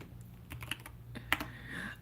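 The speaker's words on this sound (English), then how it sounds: "Oh, my keyboard sounds really good." Keys pressed on a Keychron K2 mechanical computer keyboard, a quick scatter of soft clacks, close but fairly quiet, over a low steady background hum.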